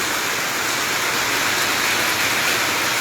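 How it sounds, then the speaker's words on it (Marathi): Heavy pre-monsoon rain pouring down in Bhoom town, a loud, dense, unbroken hiss of falling water with no voices. "हा मान्सून पूर्व पाऊस हा शेतीच्या कामांची सुरुवात करण्याला करण्यासाठी आधीचा हा पाऊस अतिशय महत्त्वाचा असतो"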